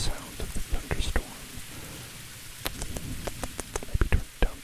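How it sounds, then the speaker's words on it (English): Rain spattering close on a surface with sharp drop ticks and low rumbling thunder underneath, a steady thunderstorm bed that swells toward the end, with no voice over it. "We can hear the sound of the thunderstorm."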